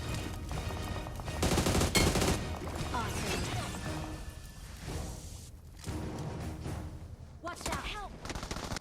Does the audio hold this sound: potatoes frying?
no